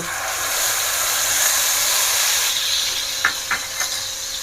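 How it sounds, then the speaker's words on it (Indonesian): Genjer (yellow velvetleaf) boiling in a pot of water gives a steady, close hissing and bubbling, with a few small clicks near the end. "Ini direbus dulu ya. Seperti ini teman-teman, kita rebus genjernya ya."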